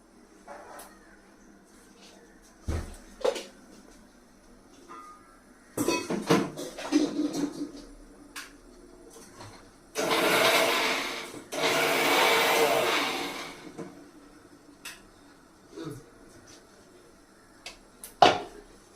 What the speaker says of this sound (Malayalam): ഇത് ഞാൻ ഇനി ഇതൊന്ന് ക്രഷ് ചെയ്തുകൊണ്ട് വരട്ടെ കേട്ടോ